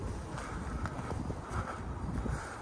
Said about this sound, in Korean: 바람소리가 여러분들 좀 거슬릴 것 같네요.